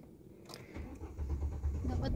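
A car engine cranks and catches during a manual-transmission driving lesson, turning over into a steady low idle rumble that builds through the second half, with an instructor talking over it.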